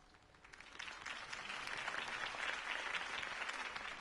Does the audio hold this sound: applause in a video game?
yes